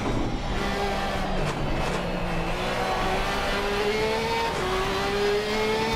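A Porsche GT3 race car in a racing video game at the Nurburgring GP circuit, on a partly wet track, engine droning steadily and climbing in pitch as it accelerates through the gears, loud and continuous with no talk.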